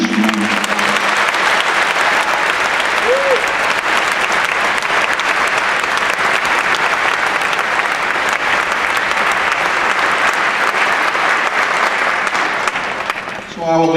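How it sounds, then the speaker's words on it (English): Sustained, dense round of applause from a concert audience honoring band service fraternity and sorority chapters, steady and full for about thirteen seconds before tapering off at the end. "Would you please give them a nice round of applause?"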